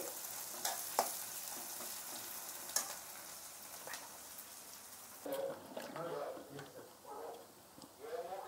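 Onions frying in a pan, a soft crackling sizzle with occasional stirring scrapes, fairly faint and close, with a voice talking quietly in the background.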